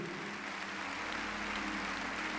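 A church congregation claps together in steady, even applause, faint and somewhat distant, with no voices over it.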